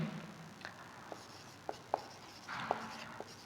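Chalk or marker strokes on a classroom board during a Class 9 mathematics lesson, a handful of short scratchy taps and squeaks spaced irregularly over quiet room tone, fairly faint and with no talking.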